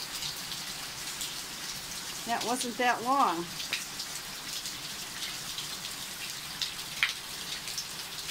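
Steady downpour of rain mixed with pea-sized hail drumming on an RV in the San Fernando Valley, a continuous dense patter with a person speaking briefly partway through.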